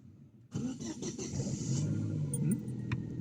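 A taxi car's engine cranks and catches after a quiet pause, then settles into a low, steady rumbling idle close by, with faint clicks toward the end and no talk.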